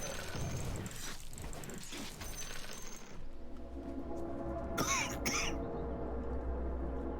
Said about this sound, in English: That's all we hear is a cough.